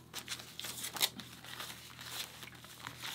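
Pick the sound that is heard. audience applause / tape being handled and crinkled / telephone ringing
tape being handled and crinkled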